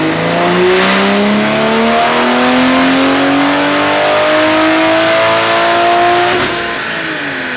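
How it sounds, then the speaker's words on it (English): A custom-tuned car engine revs loudly and steadily, its pitch climbing smoothly over several seconds before dropping off near the end, close and unbroken with no talk. "The car sounds different, it just sounds healthier."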